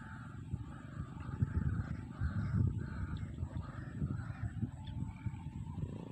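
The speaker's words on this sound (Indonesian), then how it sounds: "suara burung terwoknya juga berbunyi" A white-breasted waterhen calls in a steady series of harsh, repeated croaks, fairly distant over a low background rumble.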